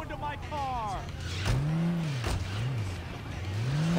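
Car in the Saints Row video game driving with a steady engine drone and rising, falling revs, alongside other game sounds and brief speech-like tones.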